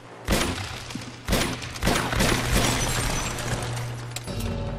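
Gunfire from the Uncharted 2 Remastered video game: loud, dense bursts of shots and impacts, one after another in sustained volleys, heard alone.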